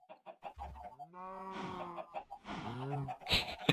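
Chickens in a video game spawner cluck and squawk in short, clipped bursts, with a few drawn-out calls, at moderate volume with no one talking over them.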